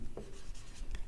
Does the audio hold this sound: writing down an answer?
yes